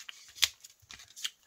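Scissors fussy-cut around a paper shape in a few short, close snips and crisp paper rustles, sparse and irregular, with no voice.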